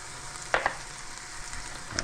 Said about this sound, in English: We want to saute these just for a second.